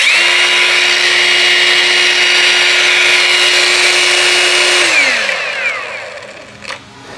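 An Intertool WT-0366 cordless brushless angle grinder runs steadily at full speed with a high, even whine for about five seconds, then winds down smoothly to silence, loud and close with no talking.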